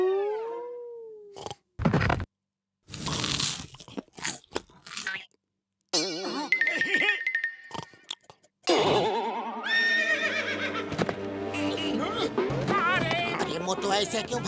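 Cartoon horse whinnying amid a busy slapstick soundtrack with rapid galloping effects, whooshes and musical stings; a voice speaks in Hindi between the effects.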